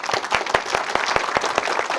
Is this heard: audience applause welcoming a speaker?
yes